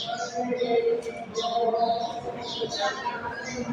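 Sparrows chirp and tweet repeatedly inside an echoing Swaminarayan temple in Jamnagar, bright calls overlapping with a murmur of background voices.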